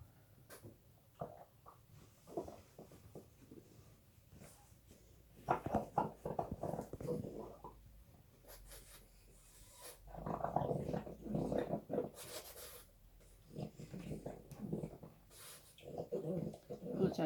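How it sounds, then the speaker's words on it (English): A pet dog growls and whimpers indoors, restless and fairly near, in uneven bursts that rise and fall over about seventeen seconds beside quiet room noise. "my dog's being very noisy"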